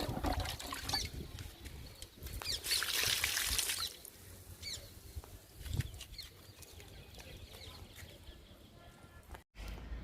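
Liquid fertilizer pours and trickles onto a row of okra plants, a soft splashing stream with a brief louder gush, close by with outdoor background and no talking.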